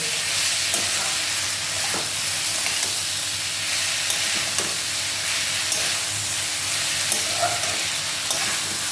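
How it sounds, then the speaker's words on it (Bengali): Lentils frying in a pan for a bottle gourd dish, a steady close sizzle and hiss filling the whole stretch with soft stirring scrapes and no talk over it. "ডালটা দিয়ে দিই, এর সঙ্গে ভাজা হয়ে যাবে।"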